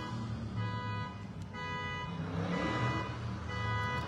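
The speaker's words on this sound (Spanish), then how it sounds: "Hay mucho ruido en la ciudad, ¿verdad?" City traffic hums faintly and steadily in the distance, with a car alarm tone repeating over the low vehicle rumble and no one speaking.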